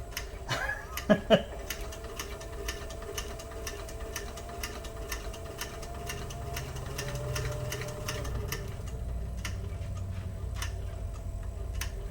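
A sewing machine stitches a leather purse with a steady, fast ticking run that lasts the whole stretch, close and even, with a couple of louder knocks near the start.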